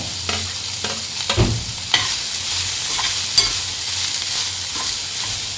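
Carrot, cabbage and beans stir-frying in a pan: a steady hiss of sizzling oil with scattered scraping and knocking strokes of a spatula, close and fairly loud, no voices.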